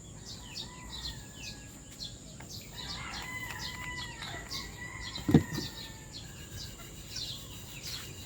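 Bulik gamecock chickens in a yard, with faint rooster calls and clucks amid insect buzz and wing flapping, plus one sharp louder burst near the end.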